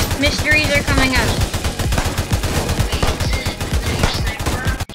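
Sniper rifle and other gunfire in a video game, a fast barrage of sharp, loud shots in quick succession, with voices talking over the shooting.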